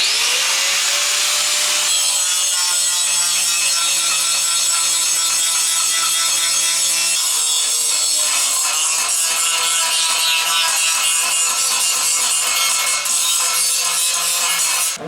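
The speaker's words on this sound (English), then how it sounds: "turn on the grinder" A grinder runs continuously on wood, giving a loud, steady abrasive whine with a rasping, rubbing texture that shifts pitch slightly partway through and carries on alone without talk.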